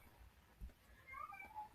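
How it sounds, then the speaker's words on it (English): A house cat meows a few times, the cries faint and a bit distant over a low background hum, with no talking. "you can hear my cat meowing again"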